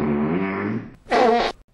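A cartoonish fart sound effect in two bursts: a long buzzy, wavering tone followed after a short gap by a shorter, brighter, louder blast.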